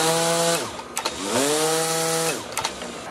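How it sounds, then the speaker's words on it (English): A WORX 56V battery grass trimmer with self-feeding string whines up and winds down twice in quick succession, its motor pitch rising and falling, with short clicks between bursts. "you power up your trimmer, and when it's powered up, you hit the switch and the string should come out"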